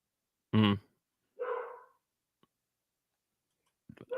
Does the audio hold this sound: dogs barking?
yes